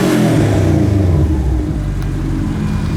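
A car engine revs hard and loud up close, a strong rising roar for about a second and a half that then settles into a steady, deep idle rumble.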